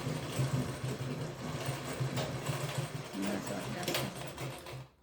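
A sewing machine stitches to lock the tip of a stand collar, a steady, rapid mechanical whir running close up and continuously for several seconds, with a voice speaking over it.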